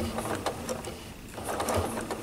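A sewing machine with a ruler foot doing free motion quilting on a table runner, quick clattering needle strokes in short uneven bursts, close and moderately loud.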